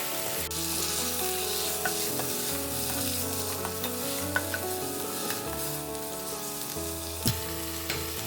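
Tomato slices wilting in a hot pan for a quick tomato curry, giving a loud, continuous close sizzle with occasional clicks of stirring and a low steady hum beneath, no talk.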